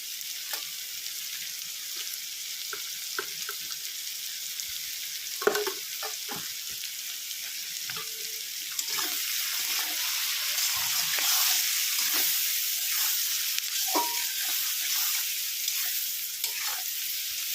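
Banana flower and prawns sauté in a pan with turmeric and salt, making a continuous close sizzle broken by repeated stirring scrapes and clinks, growing slightly louder toward the end.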